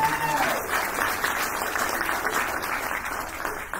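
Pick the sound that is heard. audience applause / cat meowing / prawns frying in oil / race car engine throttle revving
audience applause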